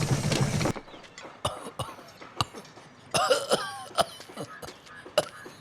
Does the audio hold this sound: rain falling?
no